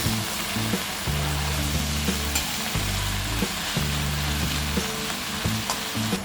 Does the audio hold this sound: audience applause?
no